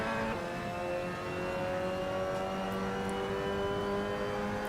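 A Mazda MX5 engine held at full throttle on a downhill stretch of the Jarama circuit in Assetto Corsa, a steady loud droning rev with rising harmonic whine, close and continuous with no talking.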